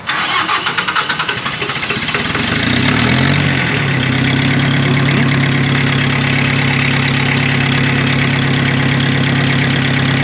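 A Mitsubishi MT2201 2WD rear-drive mini tractor engine, in near-perfect condition and in neutral, sputters to life, then settles into a loud, steady idle with a low, even throb that continues throughout.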